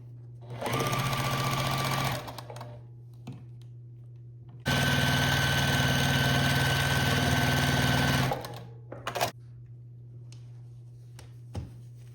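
A sewing machine stitches quilt seams in two bursts, a rapid close mechanical whir with a steady hum, separated by a pause and followed by a few soft clicks.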